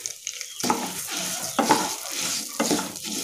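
Raw rice is dry-roasted in a pan alongside already roasted moong dal, with a soft rustling hiss and a few distinct scrapes and clinks of a ladle against the metal, close and moderately quiet.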